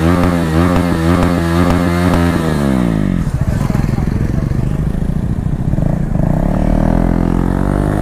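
A KTM Duke 250 motorcycle engine revs loud and close, rising and falling in pitch before settling into a rough, throbbing idle, with a voice briefly over it.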